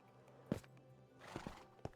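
Horse in the Minecraft video game, a few soft hoof clops and a short whinny-like snort, faint and sparse against near silence.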